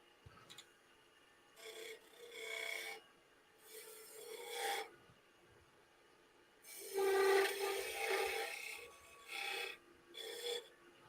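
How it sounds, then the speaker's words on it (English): Turned bamboo spinning on a lathe is scraped gently in several separate passes, each a soft, hissing rasp lasting a second or two with quiet gaps between. "So let's just ever so gently scrape it."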